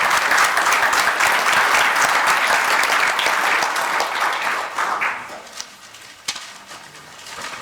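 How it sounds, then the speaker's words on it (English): Applause for a group of Girl Scouts at a city council meeting: a roomful of people clap steadily and loudly for about five seconds, then the clapping thins and fades into scattered claps and room noise. "Let's give them a round of applause"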